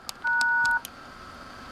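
One short, steady DTMF beep from the pound key, sent over a radio autopatch to hang up the phone link, stands alone against a quiet background and lasts about half a second.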